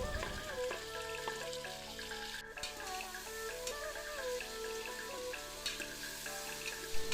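Tomato and onion fry in a pan for a vegetable pulao with sweet corn, giving a steady close sizzle with small ticks and pops throughout, without talk.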